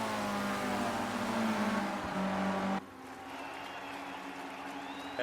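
Race cars at top speed roar past with a sustained, loud engine drone, which cuts off sharply partway through and gives way to a fainter, more distant engine hum.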